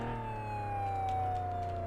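A police car siren in the PC game Flashing Lights wails steadily and loudly for a couple of seconds, its pitch sliding slowly downward over a low engine drone, with no talk.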